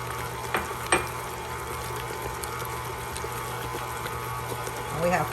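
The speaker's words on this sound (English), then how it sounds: "when you're mixing your eggs in, mix them on medium speed, about 35 to 40 seconds" An electric mixer on medium speed beats eggs into strawberry bubblegum pound cake batter, giving a steady motor whir with a few brief clanks near the start and a swell at the end.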